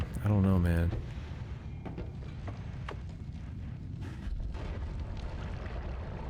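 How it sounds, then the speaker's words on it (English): Glass cannon bomb exploding in Noita, a loud burst at the very start followed by a long rumbling, crackling tail of debris and low noise that fades out slowly. "There's your glass cannon bomb."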